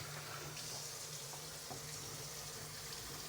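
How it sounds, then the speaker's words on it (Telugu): Raw meat being rinsed under running water before marinating, a soft, steady stream splashing in a sink, heard faint and close without any talking. "సో దీన్ని మళ్ళీసారి కడుగురు, ఇట్లా కడగాల."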